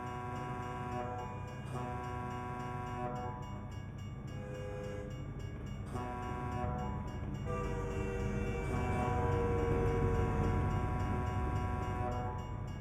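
A good-sized freight train rumbles past a truck in American Truck Simulator, its horn and crossing bell ringing steadily over a continuous engine and rail drone that swells toward the end.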